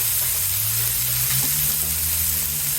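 Smashburger patties sizzle steadily and loudly on a hot griddle, a continuous dense frying hiss with no talk over it.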